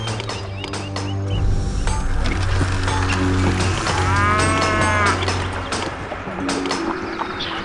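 Cows mooing in the farm-building video game Master of Atlantis Poseidon, several drawn-out lowing calls rising over a busy, continuous game soundscape of ambient music and background activity, fairly loud and steady throughout.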